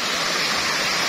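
Waterfall at the Brumbun tourist village in Madiun: a steady, loud, broadband rush of falling water that fills the short clip without pause, with no voices over it.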